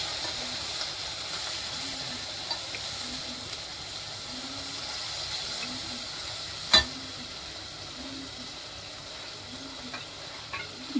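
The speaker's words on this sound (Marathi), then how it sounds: "हा वाटलेला मसाला आहे तो टाकूया। मिक्स करूया।" Ground masala paste sizzles in a hot pan for a Marathi masoor aamti, a steady soft hiss with faint stirring scrapes and one sharp clink near the middle.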